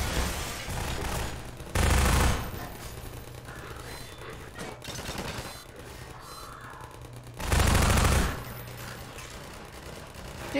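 An automated turret in Half-Life 2 lays down sustained rapid gunfire that rattles on steadily. Two especially loud, dense bursts stand out, and no voices are heard.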